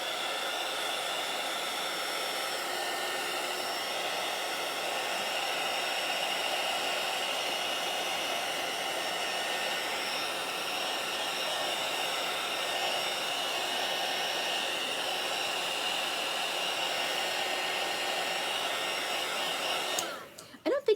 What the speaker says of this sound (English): I'm going to hit it with the dryer so I can turn it over